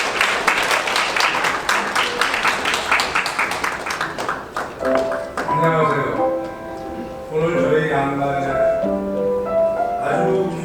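Wedding guests at a convention hall clap in a loud, rapid burst that fades after a few seconds as music with a sustained melody rises and carries on beneath faint crowd noise.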